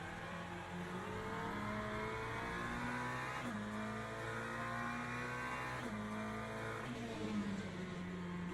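Le Mans Ultimate race cars at Monza running flat out into turn 1 at about 270 km/h, a steady loud harmonic engine drone with pitch shifts as they brake and downshift, continuous throughout.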